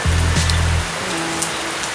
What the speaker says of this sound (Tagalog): ba't siya umuulan?